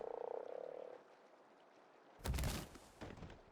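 A frog croaks in the Aberration map of the video game Ark, a loud buzzing croak repeated quickly in a short burst at the start. Fainter ambient game sounds and a few thumps follow.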